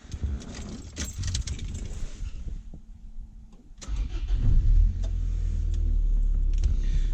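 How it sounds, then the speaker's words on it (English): A race car's engine is started inside the cabin, with keys jangling and clicking at first, then the engine catching and settling into a loud, steady low idle. "We're going to start the car"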